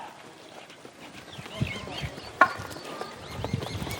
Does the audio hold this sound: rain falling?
no